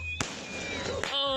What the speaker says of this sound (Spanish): No solo lanzaron fuegos artificiales